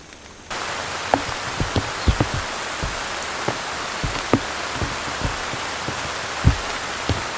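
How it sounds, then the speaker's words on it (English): Rain falls on a deer hunting tree stand, a steady dense hiss with scattered louder drips and taps close by, continuous after a brief quieter start, with no voices. "It kept getting heavier and heavier rain."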